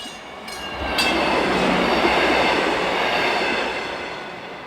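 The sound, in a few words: South Shore Line train, northbound deadhead to Hammond Yard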